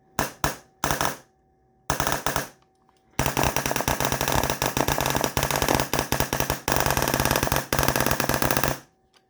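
A Backdraft Innovations Phoenix gun fired in binary trigger mode: a few short bursts of sharp reports at first, then long, very rapid strings of loud close shots with brief gaps between them.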